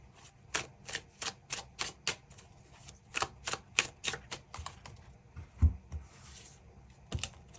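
Tarot cards are drawn and handled in a quiet room: a series of crisp, close snaps and flicks in an uneven rhythm, with a soft thump near the end.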